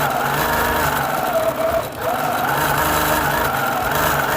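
A quilting sewing machine running in a hoop frame while it stitches a feather design hums steadily and closely throughout, dipping briefly as it slows mid-run, with no talk.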